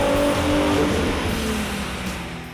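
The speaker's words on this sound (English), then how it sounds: "Now let's make another dyno run and see what kind of horsepower and torque numbers we get." A 2005–2009 Ford Mustang V6 fitted with a C&L cold air intake and a performance tune runs hard on a dyno, a loud, sustained engine roar with a rising whine that slowly eases off toward the end.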